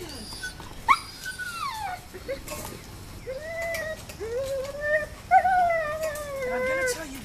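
A dog whimpers and whines in a run of rising and falling high-pitched cries during off-leash training, fairly close and steady across the clip, with no talking.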